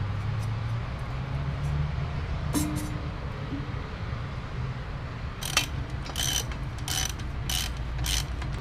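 Bolts on a turbo rear housing for a Supra are tightened with a ratchet, giving short bursts of rapid clicking near the start and a series of clustered ratcheting clicks toward the end over a low background hum.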